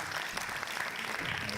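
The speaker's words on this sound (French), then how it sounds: "applaudissements pour lui." A crowd claps continuously, a dense patter of many hands throughout.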